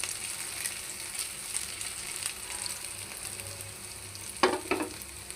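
Potato, pumpkin and noodle fingers fry in hot oil, a faint, even sizzle with a couple of sharper scrapes near the end.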